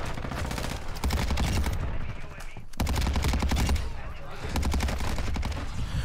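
Cronen Squall gun fired in a video game firing range: dense rapid automatic bursts of gunfire, loud and close, in three sustained strings separated by short gaps.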